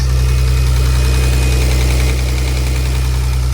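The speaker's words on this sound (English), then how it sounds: "You can see idle is pretty steady." A BMW S52 inline-six fitted in a turbocharged E46 idles steadily, a loud, close, continuous engine drone with no talking.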